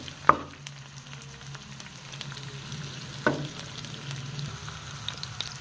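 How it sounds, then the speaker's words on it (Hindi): Onions hit hot oil in a pan for Peshawari rice, giving a quiet, steady sizzle with a couple of sharp clatters as they are stirred. "और अब मैं इसमें प्याज डाल रहा हूँ सबसे पहले।"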